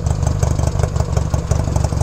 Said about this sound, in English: Listen to the exhaust note on this.